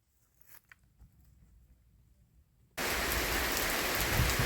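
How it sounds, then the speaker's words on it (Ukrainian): After a quiet stretch with faint bumps, a loud, dense downpour abruptly takes over, pouring steadily without a break. "Друзі, знову дощ, знову дощ л'є, дивіться, що робиться."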